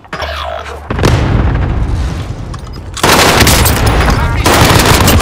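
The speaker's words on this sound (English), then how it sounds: "Enemy cluster strike. Watch your heads." In Call of Duty: Modern Warfare, an enemy cluster strike sets off loud, close explosions and rapid gunfire that rumble in two heavy waves, with a voice speaking at the start.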